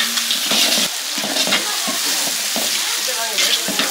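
Green chillies and ginger garlic paste frying with onions in a pan for village-style mutton curry, sizzling loudly while a spoon stirs in quick bursts.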